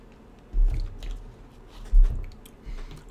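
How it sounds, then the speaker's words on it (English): A person takes a sip of water, with two soft, close gulping swallows separated by a short pause and no talk. "let's take a sip of water here."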